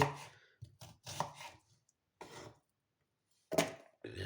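Lettuce chopped with a knife for a salad, a few crisp cuts in quick clusters with short pauses between, close and fairly quiet.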